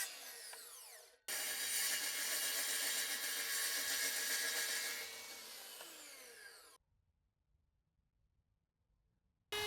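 A power saw cuts a large bevel along the bottom edge of a wooden table top for a greenhouse table, a loud, steady whine that runs for about five seconds, then stops abruptly and leaves near silence.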